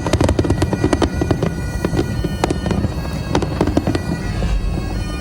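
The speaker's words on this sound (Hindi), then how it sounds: "हर जगह कहीं आतिशबाजी हो रही है" Dense New Year 2025 fireworks: rapid overlapping bangs and crackles at varying distances over a continuous rumbling wash, loud and sustained without pause.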